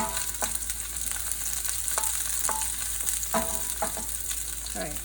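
Shallots fry over medium-high heat with a steady bright sizzle throughout, broken by several short scraping stirs of a spoon against the pan.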